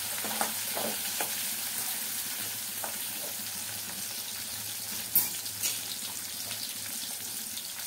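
Curry leaves tempering in hot oil, a soft steady sizzle and crackle with a few sharper pops and light stirring clinks, no talk.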